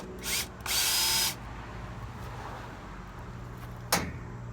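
A power drill fitted with a 5/16 bit gives two short whirring bursts, the second longer, close and fairly loud while marking holes for a weed trimmer rack, followed by a brief clack and quiet handling, without any talking.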